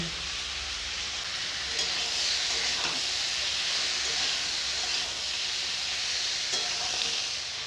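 Okra and yardlong beans sizzle in a pan of spice paste, a steady close-up hiss and crackle running unbroken from start to finish.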